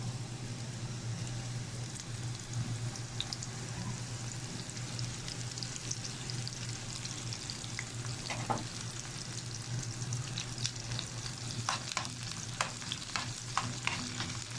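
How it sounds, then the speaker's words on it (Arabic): Sliced onions fry in oil in a pan for lentil soup, a continuous close sizzle with scattered crackles and spatula clicks growing busier toward the end. "وهبدا ان انا احمره في شويه زيت كده عشان يدي طعم بقى"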